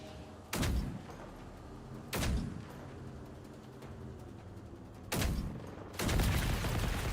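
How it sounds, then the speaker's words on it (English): The Firebird weapon firing in Generation Zero, four heavy booming blasts spaced a second or more apart, each one loud and close with a short rumbling tail. "I forgot how fast the Firebird can fire again once it stops"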